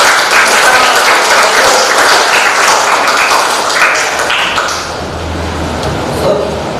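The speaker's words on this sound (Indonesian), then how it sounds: "tepuk tangan dulu" A classroom audience applauds after a group presentation, a loud, dense clatter of clapping that gradually thins toward the end, with faint murmuring underneath.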